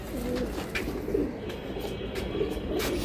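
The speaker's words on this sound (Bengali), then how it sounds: "এইটা হচ্ছে বেজি কবুতর।" A male Bezi pigeon coos in soft, repeated low pulses close by, set against steady background noise with no talking.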